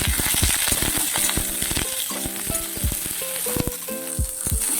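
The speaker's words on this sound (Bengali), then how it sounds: "সবজিটা কিছুক্ষণ ভেজে নেব" Vegetables including stalks and eggplant fry in a pan with a constant loud sizzle, punctuated by repeated sharp knocks and scrapes of a spatula stirring them up close.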